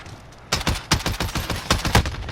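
Oden assault rifle in a Call of Duty-style video game fires a run of heavy, punchy shots in uneven bursts, loud and close with no talk over them.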